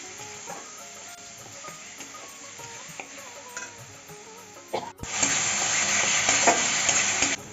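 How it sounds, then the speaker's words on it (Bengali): Spice masala with tomato paste sautés in a pan, a continuous frying sizzle with stirring that swells much louder and brighter partway through, with no talking. "এখন টমেটোর পেস্টটা দিয়ে দেবো ভালো করে আর একটু কষিয়ে নেবো"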